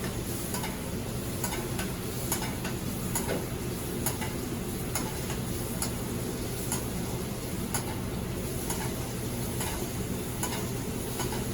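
Salmon fillet sizzles steadily in a hot pan while being basted during pan-searing, a close, continuous frying hiss dotted with small irregular pops and ticks, no voices.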